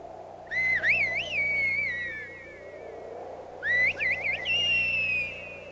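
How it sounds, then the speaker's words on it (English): A loud human whistle sounds in two long, bright phrases, each rising and wavering before trailing off, with a pause between them over a low steady background hum. "What a loud whistle! I could hear it all the way up there."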